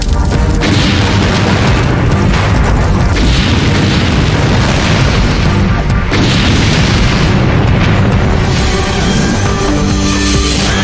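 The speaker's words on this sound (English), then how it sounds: "An out-of-control industrial fire erupts at a plastics plant." Massive out-of-control industrial fire at a plastics plant in Santiago, Chile, with hundreds of tons of PVC and chemical drums burning, gives a loud, continuous roaring rumble with heavy booms and bursts throughout.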